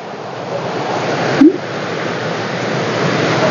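A steady, loud rush of the Cachoeira dos Namorados waterfall in São Tomé das Letras, Minas Gerais, fills the clip, broadband and unbroken, with a brief bump partway through.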